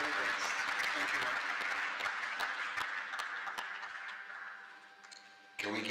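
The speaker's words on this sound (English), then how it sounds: "Can we give another round of applause?" Applause in a parliamentary chamber of the House of Representatives: dense, sustained clapping from a large room that slowly fades, with a voice speaking over it near the end.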